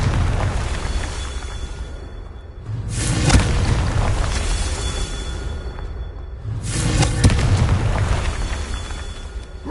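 Two loud Confringo fire-spell blasts in a Harry Potter video game, each a broad booming burst with a whooshing roar, separated by a short lull, with no talk.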